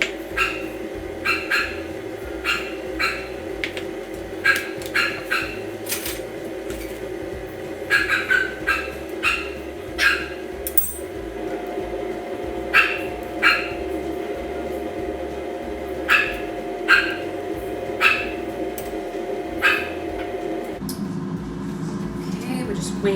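Dogs bark at a UPS delivery man at the door, sharp repeated barks and yips in irregular bursts from a short distance, over a steady household hum, with talk at times.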